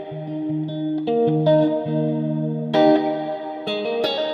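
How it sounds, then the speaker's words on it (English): Electric guitar played through a Mad Professor pedal with the reverb turned all the way up: a run of sustained notes and chords that swell and ring out in a wet, shimmering wash, with no voices. "Let's max out that reverb and see"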